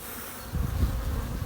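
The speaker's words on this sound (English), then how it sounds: "Unfortunately, I am covered in bees, so let me just shake all those bees off." Honey bees from an installed bee package swarm around a beekeeper, a dense, continuous close buzzing hum that swells louder midway through as more insects fly near.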